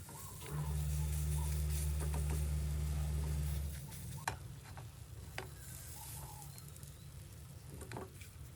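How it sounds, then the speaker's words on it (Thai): Banana and grain cookies without flour, butter or sugar cooking in a pan, with a soft low sizzle and occasional light taps and scrapes as they are turned, fairly quiet and without talking. "คุกกี้เริ่มร้อนด้านล่างแล้ว เราก็หมั่นกลับด้านนะคะ ให้แป้งเขาสุกทั่วทั้งสองฝั่ง"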